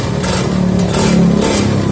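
A Kawasaki Ninja RR motorcycle engine, one with a radiator leaking coolant into the oil sump, is revved up close and loud, holding a steady throaty roar for the whole stretch.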